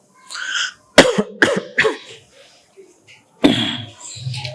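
A quick run of three sharp, close coughs, then one more after a pause, with a voice talking briefly before and after.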